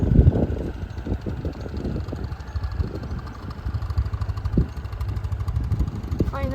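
A rented motor scooter rides along a road on Nusa Penida, its small engine droning steadily under buffeting wind, close and fairly loud throughout.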